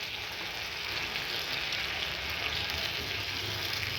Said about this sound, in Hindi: अब 5 से 6 मिनट तक इस टमाटर को हम पकाएंगे इसी तरीके से, लो मीडियम फ्लेम पे बीच में चलाते हुए।